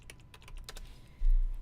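Quick taps on a computer keyboard, a short burst of about eight keystrokes, close and crisp, followed by a low thump.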